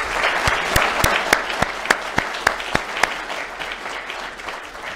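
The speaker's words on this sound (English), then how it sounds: "I think we owe them a round of applause and support." An audience at a lecture on Thomas Jefferson and John Adams applauds, sparse individual claps ringing out over a steady bed of clapping that tapers slightly toward the end.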